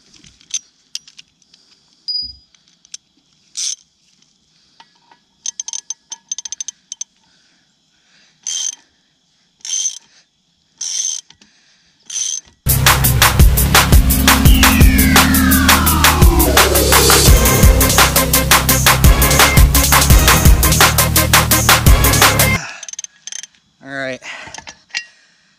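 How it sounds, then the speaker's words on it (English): A ratchet wrench with a 1 1/16 socket tightens a boat propeller nut, a long dense burst of rapid clicking lasting about ten seconds, preceded and followed by scattered metallic clicks and handling taps. "take your 1 1/16 and go ahead and tighten it up"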